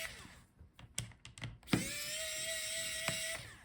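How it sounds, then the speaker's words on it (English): A powered screwdriver works on the hinge screws of a Lenovo ThinkPad E15 laptop during a teardown: several short clicks and taps, then a sustained whirring whine near and steady for about two seconds. "In order to do that, you have to unscrew the hinges."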